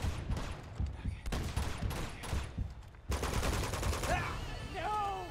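Machine gun fire in the video game Uncharted 2 rattles out in dense, rapid bursts with other game noise, and voices come in near the end.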